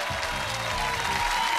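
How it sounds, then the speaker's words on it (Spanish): Studio audience applause on a Chilean TV game show, a dense steady roar of clapping and cheering that holds loud and continuous for the whole stretch with no talk over it. "Fuerte el aplauso para Guaso Toto."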